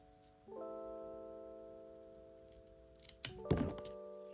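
A stem of a variegated Monstera adansonii being cut from the mother plant, heard as a faint snip and soft thunk near the end over a quiet steady background tone, with no talking.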